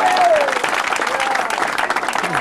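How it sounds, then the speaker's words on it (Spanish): Wedding guests break into steady, full applause, a dense close crowd of hands clapping throughout with some voices underneath. "Un aplauso."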